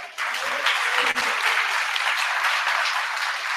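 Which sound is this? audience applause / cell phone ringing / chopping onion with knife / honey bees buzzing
audience applause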